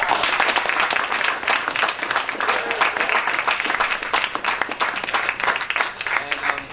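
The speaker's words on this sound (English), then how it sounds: "A big round of applause for our guests." Steady, dense applause from an audience at a British Psychological Society and Icarus Project event at Bluestockings, loud and continuous throughout with no break.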